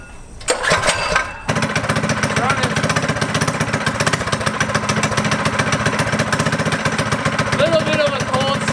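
Off-road go kart engine, choke on, catches on a cold start after a brief cranking burst, then settles into a loud, steady buzzing idle close by.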